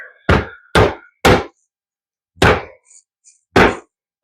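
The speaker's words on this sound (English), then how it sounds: "It's literally knocking the lid off." A Temu Recon Tanto knife strikes a lid and knocks it off, giving five loud, close, hard knocks in an uneven rhythm, separated by short silences.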